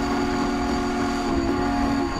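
A work train rolls through the 1954 Majestic Falls route in Train Simulator 2017. A loud, steady mechanical rumble carries a sustained horn-like tone across it, without pause or speech.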